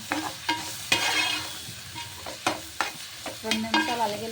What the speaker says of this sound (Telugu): ఉల్లిపాయలు వేగినాయి కాబట్టి అల్లం వెల్లుల్లి పేస్ట్ వేసి ఒకసారి వేసుకుంటే